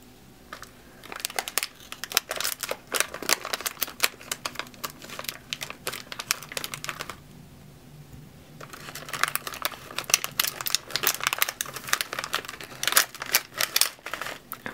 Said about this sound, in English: I have a pair of scissors.